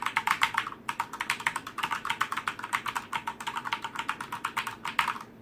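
Keys on a Corsair K70 RGB Rapid Fire mechanical keyboard are pressed in quick, irregular bursts of sharp clicky taps, close and clear with no talk.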